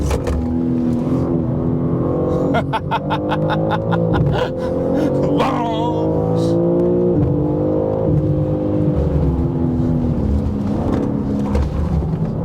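BMW M3 CS (G80) driving hard on a race track, its engine rising and falling through gear changes with rapid popping bursts and a steady loud drone throughout.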